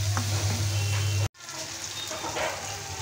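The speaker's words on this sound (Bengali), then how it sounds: "এবার মশলাটা আমি ভালোভাবে ভেজে নেব।" Spice mix for a jackfruit curry fries in a pan with a steady close sizzle and spatter; a low hum runs underneath and a brief dropout breaks it about midway.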